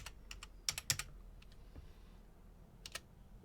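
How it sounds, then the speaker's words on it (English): Keys on a computer keyboard are tapped in a few quick bursts at a desk, a handful of soft clicks, a pause, then two more, fairly quiet and close. "and then type in your password."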